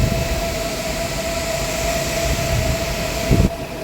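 An older-model train at Hua Lamphong railway station in Bangkok gives off a loud, steady rumble with a sustained high tone, and a brief clunk sounds near the end.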